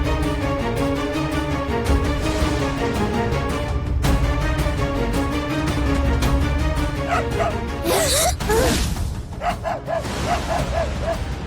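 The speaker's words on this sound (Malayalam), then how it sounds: "അതങ്ങനെ നിർത്താതെ കുരയ്ക്കുന്നു" A dog barks and yips repeatedly, loud and close, over a dense layer of dramatic music, with a few higher whining yelps near the end.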